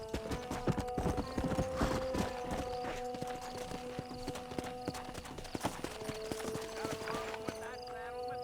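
Horse hooves clip-clopping in the Red Dead Redemption video game, a brisk, even trot of close hoofbeats with a whinny, under steady game music and character voices talking.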